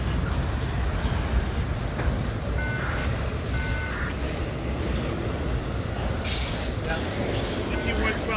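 A long daily intermodal freight train from British Columbia rolls past in Dorval, Montreal, with a loud, continuous rumble and wheel noise, a brief high squeal and someone talking over it.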